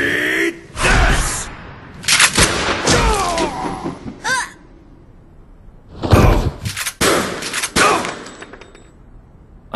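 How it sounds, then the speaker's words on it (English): Bursts of gunfire ring out in an animated fight, several sharp volleys and thuds separated by gaps, close and loud with gasping voices and scuffling between the shots. "Where do you get off using guns, huh?"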